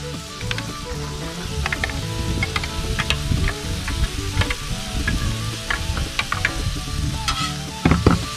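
Frittata ingredients sizzle loudly in a Dutch oven over a campfire, a continuous crackling fry punctuated by frequent metallic stirring scrapes and clicks, close up and without speech.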